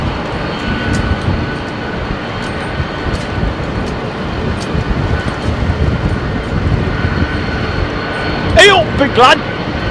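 Boeing 767 jet taking off from runway 27R at London Heathrow, a broad, steady distant roar under a man's loud exclamation near the end.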